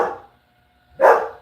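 A dog barks at other dogs passing by, two short close bursts separated by a brief quiet gap.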